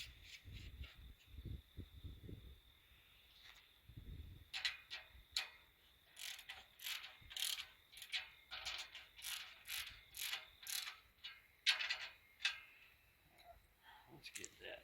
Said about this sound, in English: Grabbed the wrong ratchet. One's got a 7/16 socket on it.